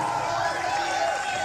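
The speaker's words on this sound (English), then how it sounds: "Big round of applause for the radio listeners who are not here with us tonight." Concert crowd at the House of Blues in Chicago during a live show, giving a steady, dense wash of applause and cheering that stays even and fairly loud throughout.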